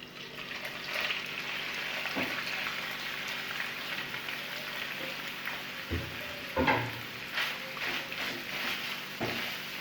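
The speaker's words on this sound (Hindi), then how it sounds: "ऑयल गरम हो चुका है। अब मैं पैन में ऐड करूँगी फ़िश।" Fish frying in hot oil in a pan, a soft continuous sizzle like light rain, fairly faint and close, with occasional clicks and bumps of a utensil, and no talk.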